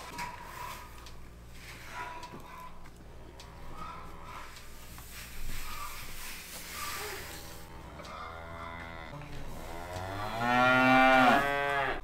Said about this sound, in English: Now with this pen of cattle over here, we have plenty of feeder space.